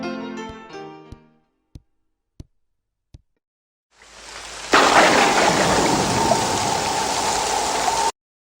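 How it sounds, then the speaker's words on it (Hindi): Heavy rain falls outside as a loud, steady roar that rises in and keeps going, after a few sharp knocks and a short snatch of music. "हाँ सीरियसली बहुत ज्यादा बारिश हो रही है बाहर।"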